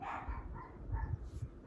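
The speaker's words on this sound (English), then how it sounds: "Please wait while my dogs finish barking." Several dogs bark indoors in short, faint bursts close together, a quick cluster of yaps and woofs that fades out within a couple of seconds.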